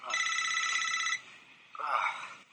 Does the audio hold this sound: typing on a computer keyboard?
no